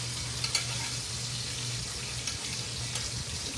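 A ribeye steak just flipped in a hot pan, sizzling steadily and close with a few sharper spits and crackles, with no voices over it.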